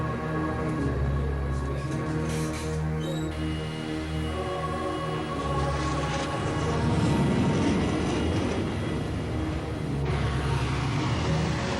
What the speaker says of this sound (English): A North American RA-5 Vigilante hooked up to a steam-driven launch catapult.